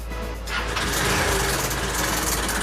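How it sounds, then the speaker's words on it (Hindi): A Honda Unicorn motorcycle engine cranks and catches, settling into a steady close idle with a rough, ticking timing chain rattle. "पहले हम गाड़ी को स्टार्ट करेंगे।"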